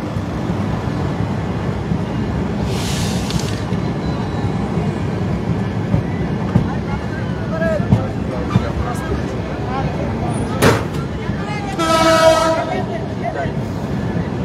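A train rolls across the Padma Bridge with a steady, loud rumble of wheels and carriages, while people talk over it and a few brief high whistle-like tones rise above the noise.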